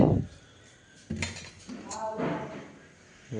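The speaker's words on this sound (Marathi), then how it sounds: "आता मी मैगी ओततो तिघांना" Maggi noodles being poured from a pot into three plates, with loud metallic clanks of a utensil against cookware at the start and mid-clip, plus scraping and clinks of steel dishes.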